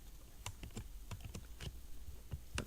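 Irregular clicking keystrokes on a computer keyboard, typing code while learning Java, come as a quiet, close sequence of separate taps with no voices.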